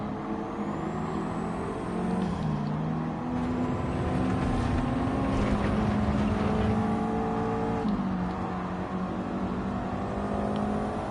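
A 1998 Toyota MR2 engine in Gran Turismo 7 drones steadily throughout, with pitch rising and falling as it revs through gears, loud and continuous with no talking.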